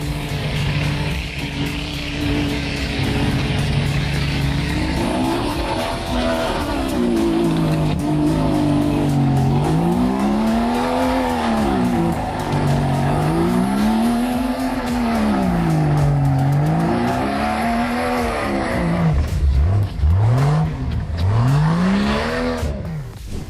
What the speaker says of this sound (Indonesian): Kendaraan off-road Kompa Pinzgau R awalnya dibangun untuk tentara Swiss, tepatnya pada tahun 1971.